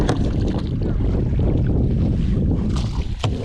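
Strong wind gusts roar steadily across open water around a moving canoe, a constant loud buffeting rush with low rumble, the water churning beneath it.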